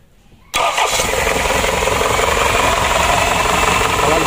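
A rebuilt Isuzu Elf NKR 71 truck diesel engine cranks briefly after a quiet start, then catches and settles into a loud, steady, rough idle that keeps running.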